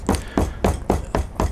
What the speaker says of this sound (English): we come to do the rounding now with our hammer